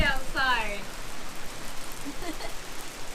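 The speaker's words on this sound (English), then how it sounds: "Hailstorm!" A dense patter of hail drums on the surfaces of a boat, with a brief voice near the start and again later.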